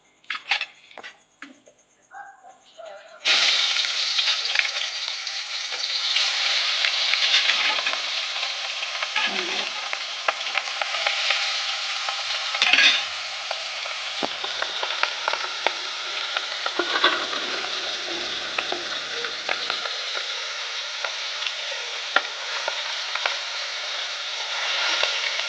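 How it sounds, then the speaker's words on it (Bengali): Turmeric and salt-rubbed katla fish sizzles in hot oil in a kadai, a continuous bright frying hiss that starts abruptly and holds steady, with occasional stirring clatter and no voices. "নুন হলুদ মাখানো মাছটা দিয়ে দেবো"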